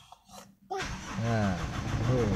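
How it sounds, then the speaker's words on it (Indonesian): A car engine is started with the key held: a brief quiet moment, then the engine catches and settles into a steady running sound, with a voice speaking over it. "walaupun kelihatannya agak sedikit susah, tapi nyala juga ini mesin ya"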